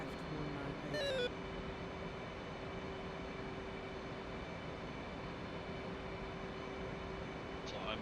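Steady jet engine roar from an aircraft taking off in the flight simulator DCS World, a constant loud drone that fills the whole stretch, with a short radio-like tonal blip near the start.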